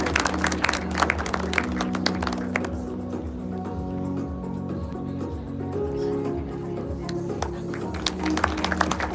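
An audience at a corporate technology day event applauds a guest, a steady wash of clapping with sharper taps, mixed with a low hum and tonal background sound in the hall.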